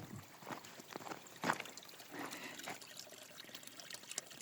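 Water from a mountain spring near Medeu trickles and splashes softly and irregularly outdoors, a faint, uneven stream with occasional louder gurgles.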